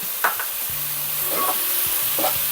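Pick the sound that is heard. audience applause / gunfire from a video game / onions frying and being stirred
onions frying and being stirred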